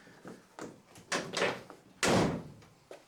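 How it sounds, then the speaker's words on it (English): Driver's door of a Mk1 VW Caddy under passenger-side rust repair, pushed shut after fitting a new sill, gives a loud solid thud after several lighter clicks and knocks in a workshop. "Is the door going to close?"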